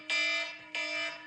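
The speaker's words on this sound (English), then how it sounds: "That is the alarm we set yesterday." An alarm goes off indoors: two loud, bright electronic tones, each held for about half a second with a short gap between them.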